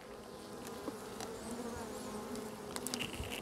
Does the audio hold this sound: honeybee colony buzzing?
yes